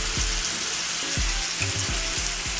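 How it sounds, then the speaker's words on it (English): A thick ribeye steak sears in a hot pan, giving a loud, steady sizzle up close. Occasional low thumps and clinks from the pan come through, and nobody speaks. "I'm gonna sear each side of my ribeye for about 7 minutes on each side"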